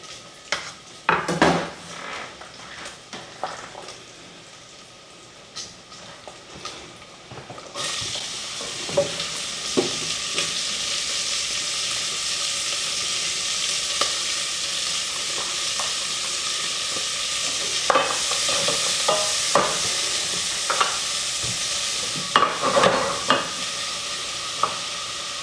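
Onions fry in rendered bacon fat in a pot for corn and bacon chowder: a spoon scrapes and clanks against the bottom over a steady sizzle that swells louder once the onions go in, with no talking.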